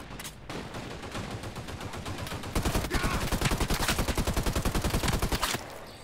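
Sustained automatic gunfire in the shooter Caliber, a steady stream of close, rapid shots that grows louder midway, then cuts off near the end.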